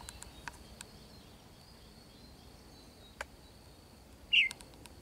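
A wild bird in a deserted wild area, black-headed with a long white tail, gives a single short chirp near the end over quiet ambient hiss and faint insect-like ticks.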